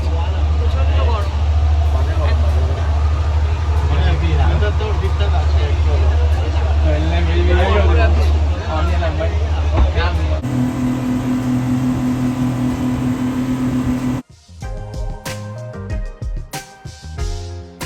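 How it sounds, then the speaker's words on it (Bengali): Speedboat motor droning steadily on the sea during an island tour off Ao Nang, Krabi, a loud continuous engine hum with people talking over it, then a change in the sound partway through. "Today we go by the speed boat."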